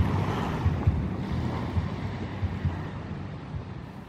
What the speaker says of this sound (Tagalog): Halos hampas ng alon ang maririnig sa tirahan ng mga mamamayan.